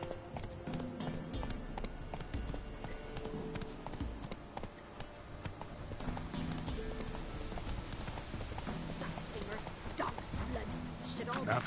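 Roach, the horse in The Witcher 3: Wild Hunt, gallops in a quick, rhythmic clip-clop of hooves that carries on throughout, with a voice talking over it.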